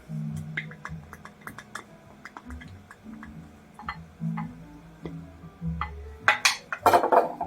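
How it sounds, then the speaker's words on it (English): Melted butter and Frank's Red Hot sauce are mixed together in a bowl, producing a run of light rhythmic ticks and taps that grow into busier clinks and clatter near the end. "we take our melted butter and our Frank's Red Hot. And we're going to mix that together."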